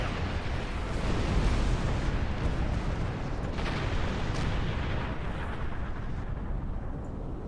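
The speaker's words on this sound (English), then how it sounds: "Warning. Artillery incoming." Distant artillery fire rumbles in Star Trek Online as heavy, continuous booming with a rolling low roar and a few sharper hits mixed in throughout.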